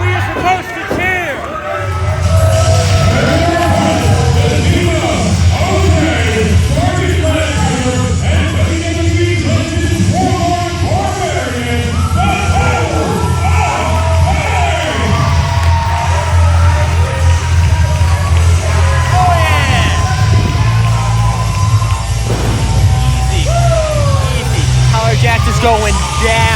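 A live wrestling crowd at an indoor show yells and cheers loudly and steadily throughout, a dense roar of many voices with individual shouts rising above it.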